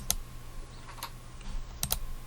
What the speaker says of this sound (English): pressing the letter T on the keyboard